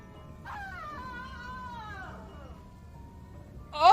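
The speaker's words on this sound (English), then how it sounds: "why did that scream sound different?" A wavering, high-pitched scream from the horror video game Ib rises, holds and then trails downward over a couple of seconds, followed by a sudden sharp burst of sound at the end.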